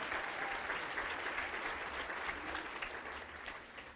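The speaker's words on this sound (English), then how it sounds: "let's give her a round of applause" A seated audience at an awards event gives a round of applause, steady and dense, with many hands clapping together at a fairly soft level before it gradually tapers off.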